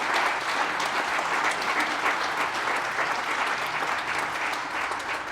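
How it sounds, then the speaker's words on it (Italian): Sustained, even applause from a crowd at a regional press conference on the Pedemontana Montebelluna–Bassano road, honoring the construction companies and workers, dense and continuous throughout with no speech. "un super applauso a tutte le imprese e lavoratori"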